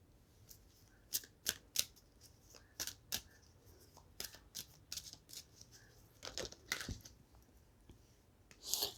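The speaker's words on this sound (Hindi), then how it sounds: "I am going to shuffle again." Tarot cards shuffled by hand in a quiet room, a run of sharp riffling snaps and soft slides at an uneven pace, close and fairly faint, with no talking.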